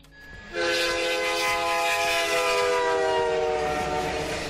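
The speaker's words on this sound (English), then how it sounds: "you can hear the sound is coming from the right side to the left. So it goes with the motion of the train." A train passes with a loud sustained horn-like whistle and rumbling wagons, the sound rising sharply after half a second and holding steady, panned from right to left.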